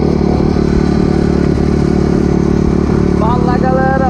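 A rebuilt Honda CRF 250 dirt bike engine drones loud and steady at close range, with a rising rev near the end. A voice talks over the engine.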